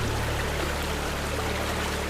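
Savica Waterfall in Slovenia pours with a steady, broadband rushing roar, continuous and fairly close, with no voices over it.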